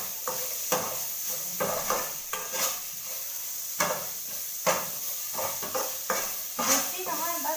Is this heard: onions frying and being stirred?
yes